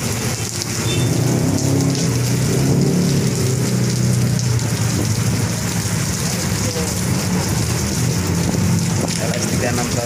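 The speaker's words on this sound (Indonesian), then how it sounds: "Suasananya hujan ini kawan-kawan dari Agen Bekasi" Steady rain pours on an ALS 361 bus at the Bekasi bus pool, a dense, constant hiss of drops on surfaces with low rumbling underneath, continuous throughout.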